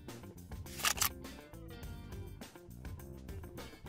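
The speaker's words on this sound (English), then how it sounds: "The final shot is taken by pressing the shutter button." An Olympus camera fires its shutter once, a brief crisp mechanical snap heard over steady background music.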